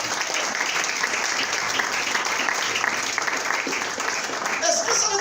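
A church congregation applauds and cheers for God during a sermon, with dense, steady clapping and voices filling the room throughout five seconds.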